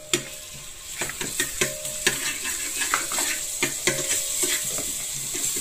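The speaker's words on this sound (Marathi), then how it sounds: "यामध्ये मी अद्रक, लसूण आणि कोथिंबीर आणि जिरा याची पेस्ट टाकते।" A paste of ginger, garlic, coriander and cumin fries with browned onion in a pan. A spoon scrapes and taps repeatedly over a constant close sizzle, with no voices.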